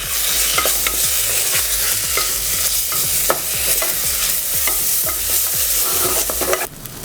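Mutton with turmeric and ginger garlic paste is stirred in a hot pot for Hyderabadi mutton marag. The spoon scrapes loudly in a regular rhythm over a continuous sizzle, and the stirring stops abruptly near the end.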